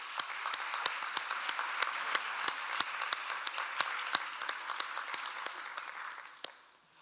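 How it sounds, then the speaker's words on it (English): An audience applauds National Honor Society inductees at an induction ceremony. Dense, sharp claps go on steadily for about six seconds before fading out at the end. "we're going to give our inductees a round of applause"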